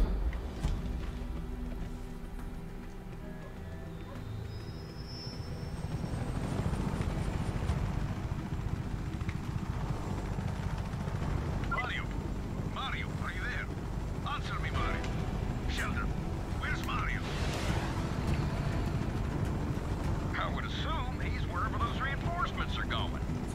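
Helicopter rotor and engine drone in the Just Cause 3 game, a steady loud low rumble throughout, rising after a few seconds, with someone talking over it.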